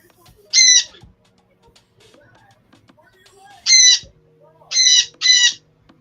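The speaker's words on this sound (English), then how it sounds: "The birds are spicy this morning" Birds squawk loudly in the morning, four harsh, close calls: one early, then a pause, then three in quick succession, with near silence between them.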